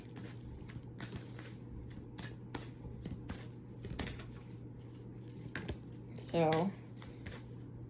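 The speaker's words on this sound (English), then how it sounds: "I'm gonna shuffle." A deck of cards is shuffled in a quiet room with a sequence of crisp, scattered snaps and ticks and a brief riffle burst near the end, while a voice speaks briefly and softly.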